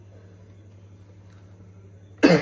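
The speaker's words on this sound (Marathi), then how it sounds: "दोन दोन मिनिटांनी खोकला येतोय सारखा" A person with a persistent cold gives a single short, loud cough near the end, close to the microphone, after a stretch of quiet with a low steady background hum.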